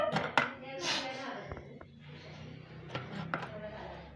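Chopping snake gourd with a knife in a home kitchen, with a few soft blade strikes scattered at intervals, mixed with handling noises, while a person talks.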